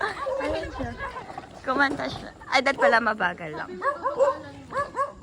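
A dog barking on a street late at night, yelps and barks mixed in with the chatter of several people talking and walking close by.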